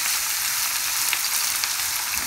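Chopped onion frying in a pan, cooked to a light golden brown for an aloo and chana dal dish, giving a steady, dense hiss of sizzling oil that holds even and close throughout with no talking.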